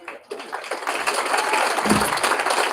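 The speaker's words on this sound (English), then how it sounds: "I get the applause." An audience at a graduation ceremony breaks into dense, sustained applause that rises quickly and holds steady, with a murmur of voices mixed in.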